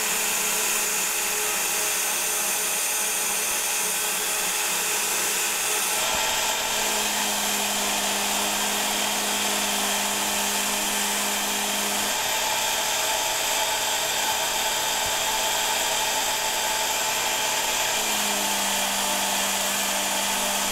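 A homemade grinding machine sharpens a steel knife blade with a continuous high-pitched whine and hiss. The pitch steps down and back up every few seconds as pressure on the blade changes, close and steady throughout with no speech.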